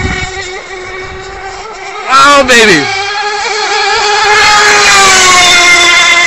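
Twin Rigger RoadRunner RC boat with twin Picco 80 EXR nitro engines running loud and close, a high buzzing whine that swoops in pitch as it passes and turns, with a man's exclamation over it.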